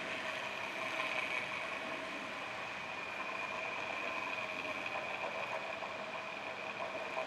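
A Baumr-AG chainsaw sharpener mechanism is adjusted, giving a faint, steady mechanical whir with a faint tonal hum and light ratcheting clicks throughout, heard alone without speech.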